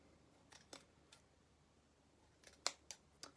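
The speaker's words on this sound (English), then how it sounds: "we're just going to cut all of these loops" Several crisp scissor snips through craft string loops, close and irregularly spaced, with a quiet pause between early cuts and a quicker cluster near the end; no talking.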